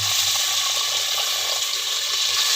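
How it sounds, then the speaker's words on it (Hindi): Water pours steadily into a pot of masala-coated meat being cooked for a spiced dish, a continuous bright splashing hiss at close range with no voices. "अभी देखें पानी डालने का"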